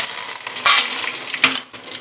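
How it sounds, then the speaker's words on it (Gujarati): Curry leaves dropped into hot oil for a Gujarati dal tempering, giving two quick bursts of crackling sizzle over a steady frying hiss, close and fairly loud, with no talking. "ચાલો જો મસ્ત તેલ આવી ગયું છે એમાં નાખી દે કડી પત્તા"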